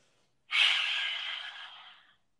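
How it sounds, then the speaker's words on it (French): A long, deep breath exhaled through the mouth during a yoga session for the back, a breathy rush that starts abruptly, holds for about a second and a half and fades out, close and alone with no talking. "on va prendre une grande inspiration et on va tout expirer par la bouche"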